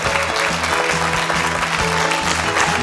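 A KBS morning-show studio audience claps to welcome a securities executive, steady and full applause throughout with a low musical backing playing underneath.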